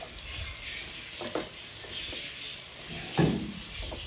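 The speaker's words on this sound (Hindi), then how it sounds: "और इसको हम 3 से 4 मिनट मज़ीद इसमें ऑयल में फ्राई करेंगे" Green chilies and ginger fry in oil for an egg masala curry, giving a steady soft sizzle with a few brief stirring knocks, one louder clatter near the end.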